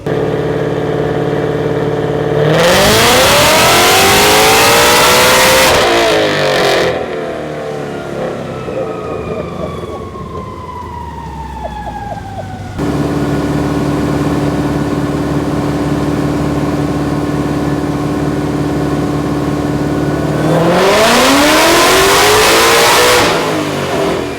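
A Shelby GT500 V8 roars at full throttle, two loud sustained pulls with rising pitch separated by a quieter stretch of lower engine sound and a falling whine.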